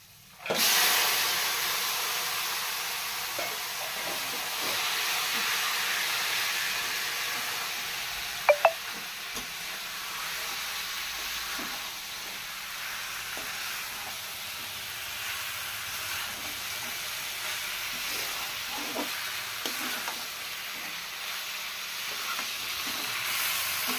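Chopped chicken meat sizzles steadily in a pan of fried spice masala as it is cooked, with a continuous close hiss and a brief clink partway through. No voices.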